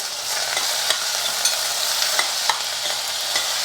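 Chopped onions with a little salt fry in a pan, a steady loud sizzle broken by regular clinks and scrapes of a spoon stirring them, with no talking.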